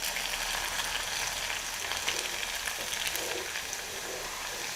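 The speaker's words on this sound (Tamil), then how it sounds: "அப்படியே அப்பப்போ மிக்ஸ் பண்ணி கிளறி விட்டுட்டே இருங்க" Homemade Indian potato chips fry in hot oil in a pan and are stirred now and then. A dense, steady hiss and crackle runs throughout, close and even, with no talking.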